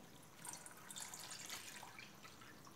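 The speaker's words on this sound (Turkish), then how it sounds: "Şöyle sürahimden suyumu alıyorum." Drinking water pours from a pitcher into a pot for tea, a quiet, close splashing trickle that swells and eases over a few seconds.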